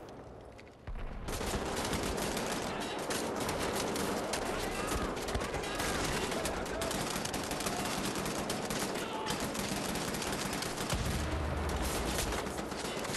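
Sustained video-game gunfire from a stealth shooter erupts after a quiet second and then rattles on continuously as machine-gun fusillades, loud and dense throughout, with a voice talking faintly underneath.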